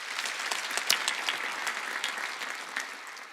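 A church congregation bursts into steady, dense applause during a Korean Sunday worship service, many hands clapping together at moderate volume, sustained without talk.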